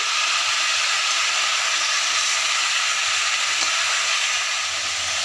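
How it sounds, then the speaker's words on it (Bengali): Chicken pieces frying with vegetables for a chicken stew, a loud, dense, steady sizzle and hiss close up, with soft stirring underneath and no voices. "চিকেনের পিসগুলোকেও সবজির সাথে ভালো করে আমরা মিক্স করে নিচ্ছি।"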